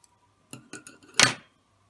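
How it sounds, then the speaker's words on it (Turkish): Four quick, crisp metallic snips of scissors cutting crochet yarn, close and isolated, with the final cut louder and slightly longer. "Şimdi kesiyorum."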